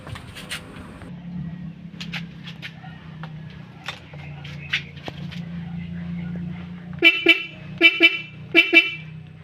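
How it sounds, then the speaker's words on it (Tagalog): A car horn wired through an interrupter relay sounds in four short honks near the end, after a steady low hum and a few faint clicks. "Yan yung busina niya."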